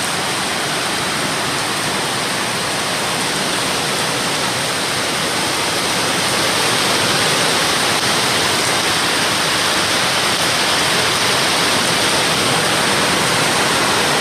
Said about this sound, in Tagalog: Grabe yung ulan ng lakas.